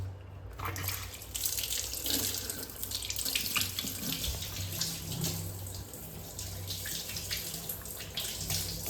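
Water runs steadily from a tap into a sink with light splashing, as if hands are being rinsed; no voices.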